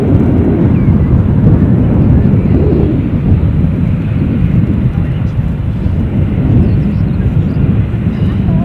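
ATR 42 turboprop airliner at Edinburgh airport, a loud steady low rumble of engines filling the whole stretch without pause, close and continuous, with a voice speaking faintly over the roar.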